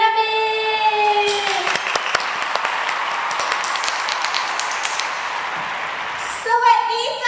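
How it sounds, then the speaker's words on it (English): Audience applause at a student debate on cannabis legalization in Thailand, a steady wash of clapping between stretches of amplified speech at the start and end. "Let us give a round of applause for Cannabis."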